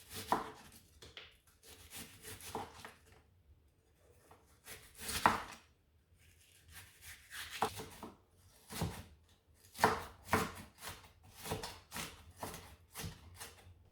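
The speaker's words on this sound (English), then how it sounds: "First, I'm going to peel and chop the onion." A large onion is chopped with a knife on a board, giving irregular bursts of quick, crisp cuts with short pauses between them, close and fairly quiet, with no talk.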